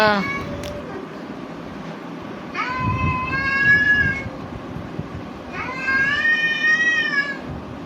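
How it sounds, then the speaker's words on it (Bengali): A cat's meow plays from a phone speaker, with two drawn-out, wavering meows close by and faint background voices and noise around them. "ফোনের মধ্যে বিড়ালের আওয়াজ চালিয়েছে"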